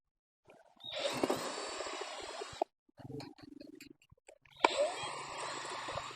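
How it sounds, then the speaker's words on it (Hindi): A power drill used to mark holes on a solar panel fitting stand whirs in two loud close bursts, separated by a quieter stretch of clicks and low mechanical rattling. "हम फिर ड्रिल की मदद से यहाँ पे निशान वगैरह मार्कर लगा लेंगे।"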